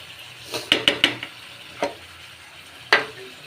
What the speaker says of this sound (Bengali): এই পেস্টটা এখন এর ভিতরে দিয়ে এটাও কষিয়ে নেব ভালো করে